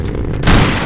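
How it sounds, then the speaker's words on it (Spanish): A rocket exploding in the video game Rust, a loud, close, broadband boom that swells abruptly and rumbles briefly. "Ese cohete fue un teledirigido"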